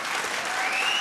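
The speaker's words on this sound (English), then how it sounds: "I'd like everybody to give a round of applause to this young man tonight." A crowd at a televised vocal contest applauds a young singer with a dense, steady wash of clapping, and a faint tone rises underneath.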